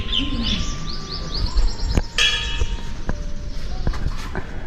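A metal bell hanging at a shrine is struck with a stone, giving several sharp clanging hits that ring out briefly. Birds chirp in the background of the outdoor setting.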